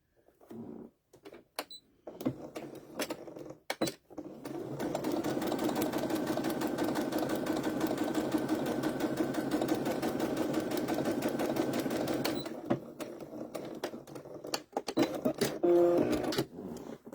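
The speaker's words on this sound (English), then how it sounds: "I'm going to sew that a little bit more." A sewing machine runs steadily and close for about eight seconds as it stitches a fabric KitchenAid bowl cover, with scattered clicks and handling before and after the run.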